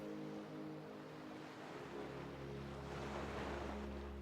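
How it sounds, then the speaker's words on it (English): A boat engine hums steadily and low while travelling around Gili Island, its drone growing fuller partway through, with surf and wind washing around it. "The boat engine is brought back to life, and you travel onwards around Gili Island."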